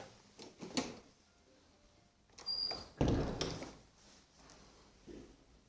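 A single sharp thud of a door closing in a district prosecutor's office in Mizhhiria, heard midway through the clip after quieter knocks and shuffling, fairly close and loud.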